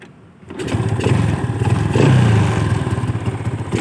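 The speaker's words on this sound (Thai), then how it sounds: "ดี๋ยวฟังเสียงเครื่องกัน" A Honda Wave 125 S motorcycle with a carburetor and manual clutch fires up after a brief silence and settles into a steady, close, throbbing idle with a slight rise in revs midway.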